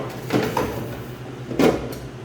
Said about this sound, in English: Then close the drawer